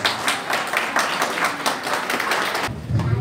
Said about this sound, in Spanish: Vamos a darle un aplauso también a nuestras compañeras.